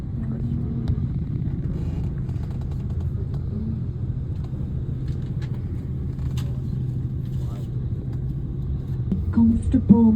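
City traffic around a car driving through central Athens, a low steady engine and road rumble inside the cabin with passing vehicles and faint horn-like tones. A brief louder surge comes near the end, and voices talk faintly underneath.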